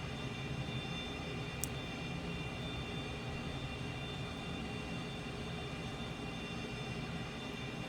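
Steady, even roar of a Cessna T-37 jet aircraft in flight, heard as a continuous engine drone with a tonal whine, low in level and unchanging, with one tiny click.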